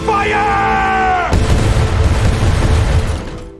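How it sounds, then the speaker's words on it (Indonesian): A ship's cannon fires during the naval battle of Myeongnyang: a shouting voice gives way to a sudden heavy boom and a long rumbling roar that slowly fades. "Dan tembakan meriam itu pun berhasil menghentikan kapal peledak tersebut tepat beberapa meter sebelum menabrak kapal utama Laksamana Yi Sun-shin"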